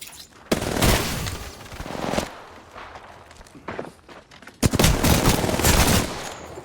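Rapid bursts of gunfire from the video game Apex Legends, loud and close, with a heavy volley near the start, a few shorter shots in the middle and another long sustained burst toward the end.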